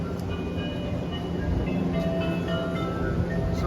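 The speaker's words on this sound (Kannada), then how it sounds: "ನಾನು ಆವಾಗ ಬಂದಿದ್ದ ಟ್ರೈನ್ ಹೀಗಿದೆ" A train in Japan, near a station serving Mount Fuji, produces a steady, close rumble and rolling drone throughout, with faint squeals on top and no talking.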